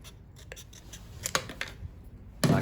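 A Pohl Force Quebec Two knife cuts off strips of material for lighting matches, producing faint, close scraping and slicing strokes at irregular intervals, ending in a louder rasping cut.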